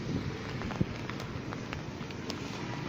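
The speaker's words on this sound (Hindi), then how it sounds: "बारिश फिर शुरू हो गई है और बारिश बहुत तेज़ हो रही है" Heavy rain hisses steadily in Lahore with scattered sharper drops tapping on nearby surfaces.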